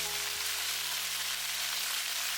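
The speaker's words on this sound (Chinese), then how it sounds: "在煎制的過程中" Pork ribs pan-frying in hot oil in a wok give a steady, dense sizzle and crackle, close and continuous, with no voices.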